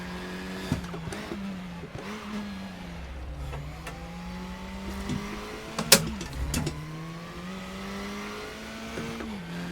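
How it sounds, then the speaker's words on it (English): A KTM race car engine in RaceRoom drones and revs close by, with a few sharp exhaust pops and bangs cracking out over the steady engine tone. "A few little pops and bangs there in the background."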